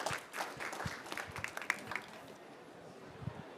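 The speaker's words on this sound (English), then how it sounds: "I'd like to ask all of you to join me in an applause for this great panel" Audience at an agriculture climate dialogue panel gives a short round of clapping, moderate and fairly distant, with scattered individual claps tapering off toward the end.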